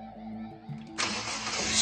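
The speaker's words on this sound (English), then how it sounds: "Start the engine to confirm that the plugs and leads are functioning correctly and that the engine is not misfiring" A car engine cranks and catches after new spark plugs and coil leads are fitted, with a low, uneven turnover that bursts into a loud, broad roar of starting and running about a second in, close and with no voices.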